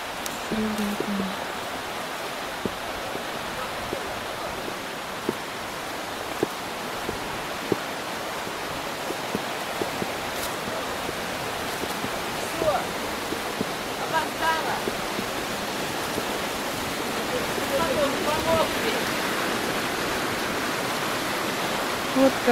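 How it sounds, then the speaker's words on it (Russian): Fast-flowing water rushes in a dense, continuous roar, steady and close, with occasional faint clicks and a distant voice barely audible beneath. "Вот какой поток воды."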